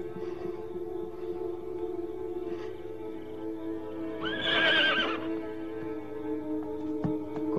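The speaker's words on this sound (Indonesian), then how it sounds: "Kuda itu sudah menunggumu." Horse neighing once in a brief, bright whinny partway through, set against a steady background drone in an old Javanese-kingdom period drama setting.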